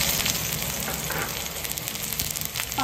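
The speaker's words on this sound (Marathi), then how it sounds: "तर आता तेल पूर्ण गरम झालेलं आहे. आता आपण कांदा टाकूया." Onion dropped into fully heated oil for a dry veg manchurian, giving a steady broad sizzle and hiss that carries through at moderate loudness, with a brief stir-like rustle near the end.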